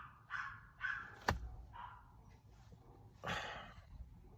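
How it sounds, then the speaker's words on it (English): Several faint, distant yaps from small dogs come in short irregular bursts in the background, quiet and spaced apart. "yapping dogs. I don't know if you could hear that."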